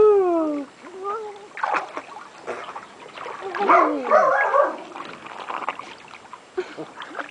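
Water splashes in bursts in a mini pool, with shouting voices and a dog barking nearby.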